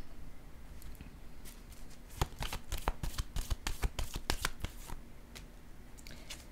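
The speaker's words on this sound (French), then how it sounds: "Je vais déposer une carte sur l'idéal à l'envers maintenant." Tarot cards being shuffled and laid down on a table, a quick run of crisp papery flicks and taps, close and fairly loud, with quieter rustling before and after.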